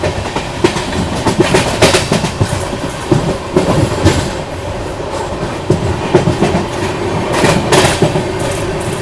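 Rajdhani Express passenger train running on tracks near Mathura Junction, heard from inside a First AC coach as a loud steady rumble with rhythmic clickety-clack of wheels over rail joints throughout.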